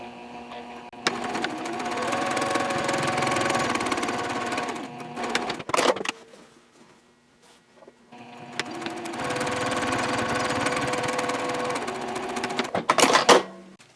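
A sewing machine top stitches a seam on a sling bag panel in two steady runs of whirring, with a short pause and some handling clicks between them and a quick backstitch burst at the end of each run.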